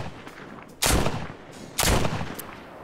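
Two loud, close gunshots spaced about a second apart in The Walking Dead Saints and Sinners VR game, each a heavy blast with a short tail, over low background noise.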